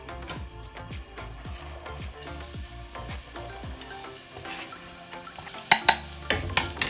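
Garlic frying in about two tablespoons of olive oil in a hot pan over medium heat, a steady sizzle with repeated stirring scrapes and a few sharper clinks near the end, no voices.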